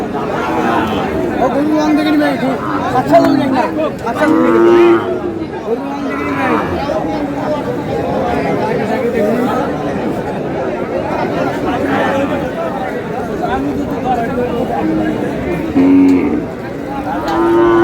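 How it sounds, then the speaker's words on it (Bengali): Cattle at a Bangladeshi livestock market at Aftabganj, with cows and calves for sale; occasional moos rise through a steady, close hubbub of crowd chatter and people talking throughout. "আর আমরা দেখছিলাম এখানে মাঝারুল ভাইকে, গরুগুলো দেখছেন।"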